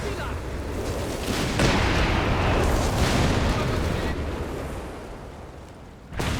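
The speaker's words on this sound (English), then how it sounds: "Here comes another barrage." Artillery barrage in the strategy game Company of Heroes 3, a sustained roar of rumbling shell blasts that swells loudly and rolls on for several seconds before tailing off.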